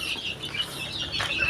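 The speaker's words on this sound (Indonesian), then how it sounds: "Nah, ini ayam saya, alhamdulillah ya lumayan banyak sih." Backyard chickens cluck in a home coop, several birds calling in overlapping bursts at close range over a steady ambient hum.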